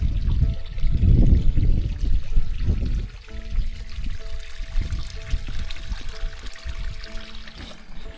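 Water from a solar-powered pump pours and trickles steadily into a clear pond among dying reeds, a close, continuous splashing stream with a low hum running beneath it.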